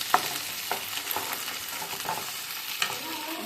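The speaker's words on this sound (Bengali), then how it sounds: "আর এদিকে ফ্রাইড রাইসের সব কিছু ভাজাভুজি চলছে।" Ingredients for fried rice sizzle in a pan as they are stirred, with soft frying crackle broken by several sharp utensil scrapes and clinks at irregular intervals, close and fairly quiet.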